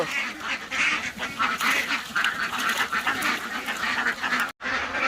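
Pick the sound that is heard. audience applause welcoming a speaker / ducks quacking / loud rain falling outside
ducks quacking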